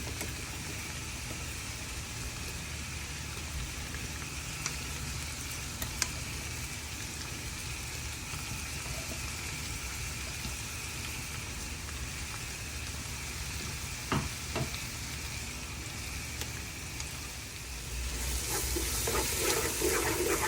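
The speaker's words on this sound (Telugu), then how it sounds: "వేసుకున్న పేస్ట్ని ఆయిల్ పైకి తెలియంత వరకు బాగా రోస్ట్ చేసుకోండి" Masala paste fries and roasts in oil for Telangana-style Thalapakatti mutton biryani, a steady, moderately quiet sizzle running throughout with a couple of small clicks, growing louder and brighter near the end.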